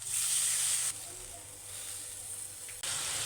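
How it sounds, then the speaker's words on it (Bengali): Fish rezala gravy, made with katla fish, simmering and sizzling in a pan, giving a steady close hiss with a brighter sizzle at the start that eases into a softer, even bubbling. "গ্রেভিটা ফুটে উঠেছে"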